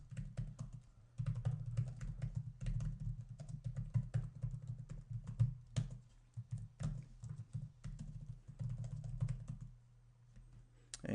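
Steady typing on a computer keyboard, dense clattering keystrokes in quick bursts with short pauses, close and alone over a low hum while network router commands are entered.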